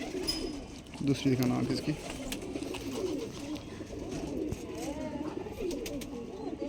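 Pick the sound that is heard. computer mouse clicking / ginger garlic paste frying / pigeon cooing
pigeon cooing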